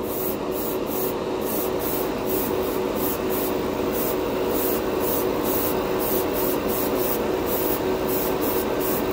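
Airbrush spraying Dspiae clear candy red paint at 15 PSI onto a Gundam model kit, a steady close hiss with faint rhythmic pulsing that continues unbroken, with no voices.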